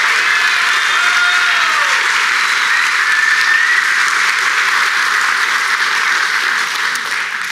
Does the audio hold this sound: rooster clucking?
no